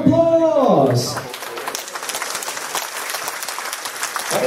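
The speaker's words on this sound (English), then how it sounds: "please, a round of applause" A voice speaks briefly, then crowd applause follows, steady and moderately loud, with a voice returning at the very end.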